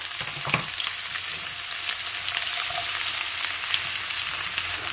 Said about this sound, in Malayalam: അപ്പൊ എണ്ണ നന്നായി ചൂടായി വന്നപ്പം അതിലേക്ക് ഇച്ചിരി ജീരകം ഇട്ട് കൊടുത്ത് കണ്ടോ.